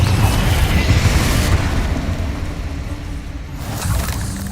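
Confringo explosion spell in the video game Hogwarts Legacy, heard as a loud, continuous booming rumble with a crackling blast tail that lingers and fades slightly before swelling again.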